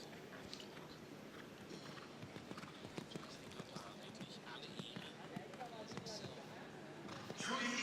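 Hooves of a five-year-old show jumping stallion, Devil 2000 Z, clip-clop in a steady light rhythm at a stallion presentation, with a commentator talking over them throughout and a crowd or surge of noise rising near the end.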